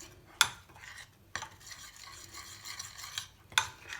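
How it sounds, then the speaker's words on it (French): Bread dough mixture for a sandwich loaf stirred in a bowl, a soft continuous scraping swirl broken by a few sharp clinks of the utensil against the bowl, close and alone. "Et maintenant, je vais bien mélanger."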